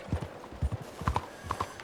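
Horse hooves clip-clop at a walk in Red Dead Redemption 2, a close, steady rhythm of hoofbeats on hard ground in the game world.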